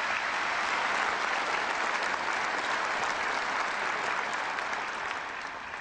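Dense, steady applause from a large crowd of North Korean people, loud and continuous throughout before thinning slightly at the very end, with no voices above it.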